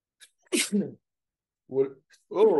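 A single sharp sneeze bursts out, followed after a pause by a couple of short spoken phrases.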